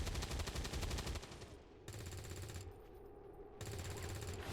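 Bursts of suppression gunfire from the video game XCOM 2 Long War of the Chosen: loud sustained rattling automatic fire in two long volleys with a brief lull between, no talking over it.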